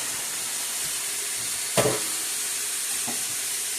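Turkey wings searing in a hot skillet give a steady, even sizzle and hiss throughout, with one brief louder crackle or spatter partway through and a fainter pop near the end; no one speaks.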